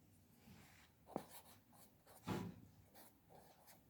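A pen writes a derivative on paper close up in short, quiet scratching strokes, two louder scribbles standing out among lighter marks in an otherwise quiet room.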